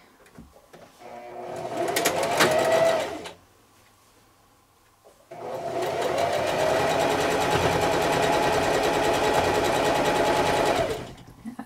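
Sewing machine running a straight seam on a baby quilt, loud and close, in two sustained bursts with a short pause between, no talking.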